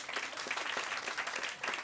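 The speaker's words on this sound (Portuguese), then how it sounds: "Palmas para ela, está aqui. Palmas." Applause from a comedy club audience at a stand-up show, a steady patter of many hands clapping throughout, moderately close and fairly faint.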